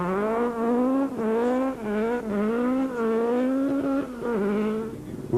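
Sasol dual-fuel Volkswagen Golf rally car on a special stage at the Cape Rally, its engine droning loud and close with rising and falling revs through gear changes, the note steady and unbroken with no speech.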